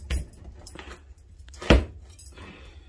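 A knife works through a tough jackfruit in a few separate dull thuds and scraping knocks, with one heavier chop in the middle and quiet gaps between strokes.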